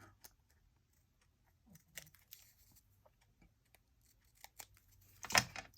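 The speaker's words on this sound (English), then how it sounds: "then I'm gonna cut this off right here" Scissors snip through material in a few quiet, scattered cuts, ending with one sharper, louder snip, close by and with no talking.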